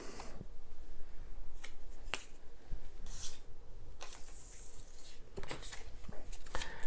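Board game cards are shuffled and handled at close range, giving brief crisp riffles and taps in scattered bursts over a quiet room background.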